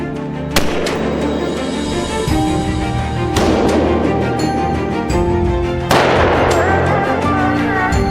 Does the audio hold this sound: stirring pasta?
no